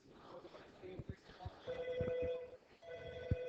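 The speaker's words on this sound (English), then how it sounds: "my phone's ringing" A telephone rings indoors in repeated steady tonal bursts, fairly quiet and partly overlapped by someone talking.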